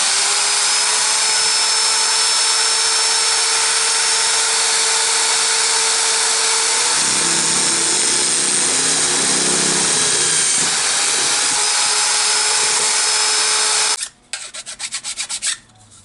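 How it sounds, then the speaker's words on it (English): A power drill bores an 8mm hole through a metal bracket in a garage workshop, a loud steady whine running for about fourteen seconds with a change in pitch midway, then stopping and giving way to brief rattling. "The next hole we're putting in is an 8mm hole, which is just a single hole that's going in this end."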